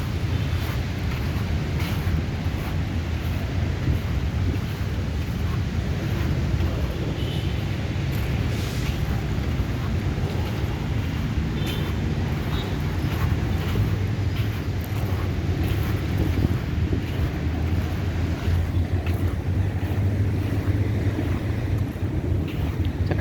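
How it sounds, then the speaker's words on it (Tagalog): Waves washing against the shore of Manila Bay beside the sea, a steady broad wash of surf mixed with wind rumble on the microphone, continuous and fairly close with no talking. "ng hampas ng alon."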